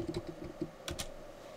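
Typing on a computer keyboard, a short burst of quick close key clicks, several taps in a row followed by a couple of louder presses.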